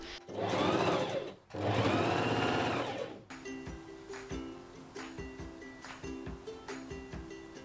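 Sewing machine stitching fabric straps together for a matching clothing set, first with two long, loud, steady runs of stitching separated by a brief pause, then a softer, rhythmic mechanical whirring with repeated quick ticks.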